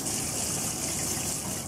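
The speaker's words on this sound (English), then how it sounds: "Nice and thin, put in a sieve, okay, and wash well" Running water rinses thinly sliced leek held in a sieve, a steady broad splashing gush that stays loud and continuous throughout with no talking.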